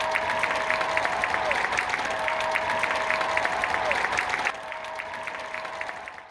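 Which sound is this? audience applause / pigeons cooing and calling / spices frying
audience applause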